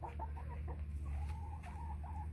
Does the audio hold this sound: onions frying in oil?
no